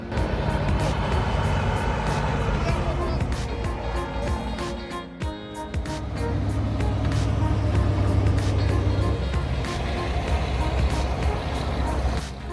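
A giant K701 tractor strains in deep mud, wheels grinding as it rips a stuck machine free; a loud, continuous heavy diesel roar with mechanical clatter that dips briefly midway, then surges back.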